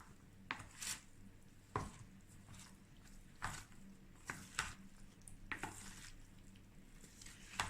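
Potato salad is stirred with mayonnaise and dried parsley, producing faint, irregular scraping and soft thuds of a utensil against the bowl over a low, steady background hiss, very quiet and with no talking.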